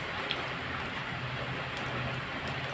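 Rain falls during the monsoon in a steady, even hiss, soft and fairly distant, with no voices or other sounds standing out over the brief stretch.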